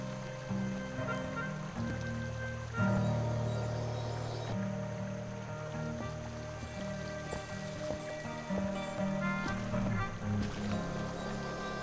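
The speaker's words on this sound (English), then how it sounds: "A swift, cold, pebbly, babbling brook." A swift, cold, pebbly babbling brook in the video game Night of the Rabbit rushes in a steady, continuous wash beneath soft background music.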